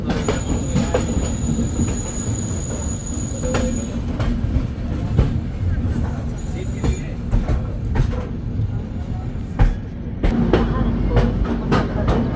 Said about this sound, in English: the train is starting now